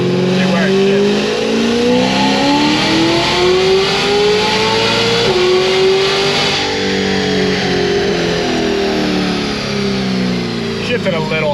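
A Stage 2 Cadillac CTS-V with headers, Big Gulp intake and tune revs hard through the gears, its loud engine note climbing steadily, dipping at a shift, then climbing again toward redline with a faint tire squeal in places.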